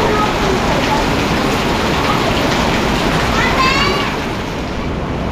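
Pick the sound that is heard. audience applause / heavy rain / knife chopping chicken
heavy rain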